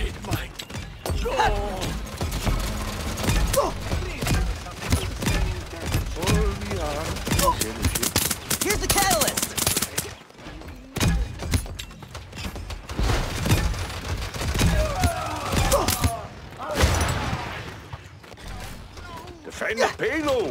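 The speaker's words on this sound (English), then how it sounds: "Enemy firing on me!" Enemy gunfire crackles through a Paladins match in rapid bursts and fusillades, mixed with mechanical clanks and other game effects, with voices now and then over the ongoing fighting.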